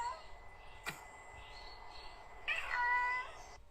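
A cat meows twice, a short call and then a louder, drawn-out meow near the end, in a quiet room with faint background noise.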